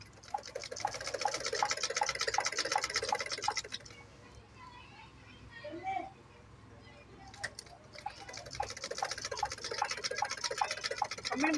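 A domestic sewing machine stitches clothes in rapid, rhythmic bursts of ticking, pausing for a few seconds in the middle before starting again, with a voice talking faintly in the background.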